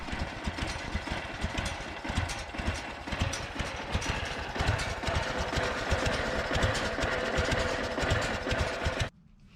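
A small engine on a John Deere 345 lawn tractor chugs loudly and steadily at low speed, its rapid rhythmic putter continuous and close, cutting off abruptly at the end.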